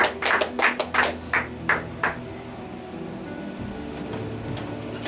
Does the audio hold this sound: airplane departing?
no